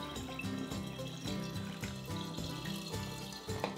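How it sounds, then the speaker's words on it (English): Water poured from close by into a batch of wild-fermented mango wine, a steady splashing, gurgling stream running continuously without pause and with no talk over it. "now we're gonna go ahead and we're gonna add in the rest of the water"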